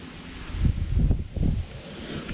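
Wind gusts through a barn, a rough low rumble of buffeting air that swells in a few surges before easing back to a steady breathy hiss, with no voices.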